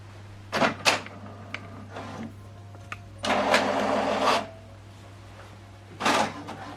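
An HP Deskjet 4100 inkjet printer prints a page, giving short mechanical whirs and clunks, a longer buzzing feed pass in the middle, and another brief whir near the end, close and moderately loud.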